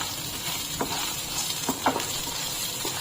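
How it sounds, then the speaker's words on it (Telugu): Green chilies and garlic fry in a hot pan for spinach rice, a steady close sizzle broken by a few scraping stirs, with no talking. "ఇందులోకి ఇప్పుడు మనము పచ్చిమిరపకాయలు కూడా వేసుకుందాము, వెల్లుల్లి, ఇది కూడా 1 నిమిషం పాటు వేయించుకోవాలి"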